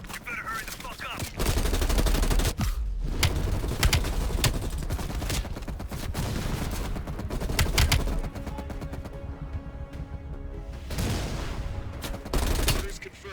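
Heavy machine gun fire in Call of Duty Cold War, dense rattling bursts with sharp cracks and brief pauses, layered with other battle noise and a voice speaking at times.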